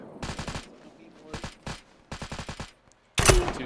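Bursts of automatic enemy gunfire in the military shooter Arma 3, several rapid volleys separated by short gaps, ending in a loud, dense burst.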